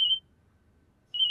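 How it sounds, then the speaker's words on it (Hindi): A phone rings in an indoor comedy scene, two short electronic trill bursts, one at the start and one at the end, with near silence between them. "एक फोन आ रही है, एक मिनट"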